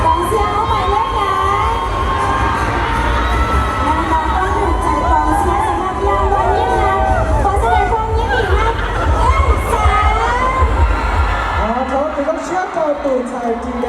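A crowd cheers and shouts for a contestant at a Miss Hmong Lao 2020 beauty pageant, a loud sustained roar of whoops and excited voices that swells and dips throughout, with children's shrieks mixed in.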